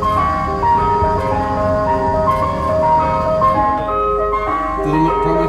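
An ice cream van plays its tinkling melodic jingle loudly and steadily, with a low engine rumble underneath and the tune shifting near the end.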